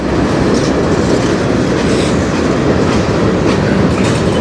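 Freight train cars rolling steadily past at close range on a Canadian National line, a loud continuous rumble with rhythmic clickety-clack of wheels over rail joints throughout.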